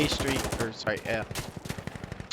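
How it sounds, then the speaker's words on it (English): Rapid gunfire is traded during a competitive first-person shooter match, with dense bursts of sharp shots that thin into a quick string of single cracks, partly overlapping brief voice sounds. "A lot of gunfire trading."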